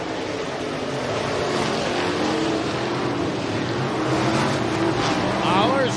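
Race cars roar around the oval at Rapid Speedway on a Friday night, a continuous engine drone heard from the stands that swells slightly as the field comes off the final turn, with an announcer talking over it.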